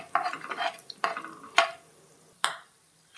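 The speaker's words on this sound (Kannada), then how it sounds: "ಉದ್ದಿನಬೇಳೆ ಶೇಂಗಾ ಹಾಕ್ಕೊಂಡು ಕೈಯಾಡಿ" Urad dal and peanuts being stirred in a pan for Tamil Nadu style puliyogare: a few sharp scraping and clinking strokes of the spoon against the pan, spaced irregularly over a low sizzle, close and fairly quiet, with no voices.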